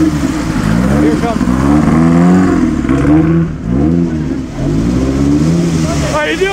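A Maserati race car at the 2010 Mille Miglia revs hard and close, its engine note rising and falling through several throttle blips, with a brief dip midway before climbing again, and people talking over it.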